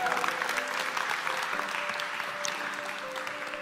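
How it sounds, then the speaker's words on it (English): Audience applause at a motivational mindset talk, a steady wash of many hands clapping at moderate distance, fairly soft and continuous, with a faint tone running beneath. "Give him a clap"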